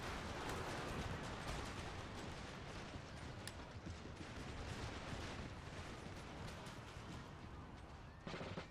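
Musket volleys crackle nonstop in the strategy game Empire Total War with the Imperial Destroyer mod, a dense distant wash of overlapping gunfire filling the whole stretch without pause.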